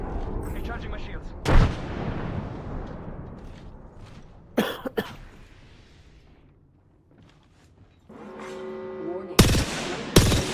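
Video game gunfire in a battle royale match: loud single shots and short bursts crack out at irregular moments, mixed with coughing and brief speech.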